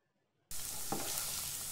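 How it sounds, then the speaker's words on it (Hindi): Paneer cubes frying with onions in a hot pan, a dense steady sizzle starting abruptly after a brief silence, with one louder pop, no speech. "अभी हम इसमें ऐड करेंगे पनीर क्यूब्स, उनको भी फ्राई करेंगे हल्का सा"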